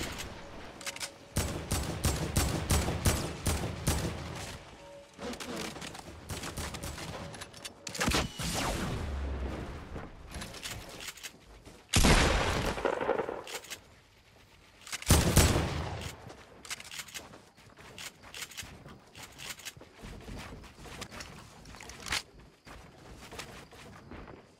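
Gunfire in the video game Fortnite: rapid bursts of automatic shots and scattered single cracks, loud and close, broken by brief lulls and a few heavier blasts.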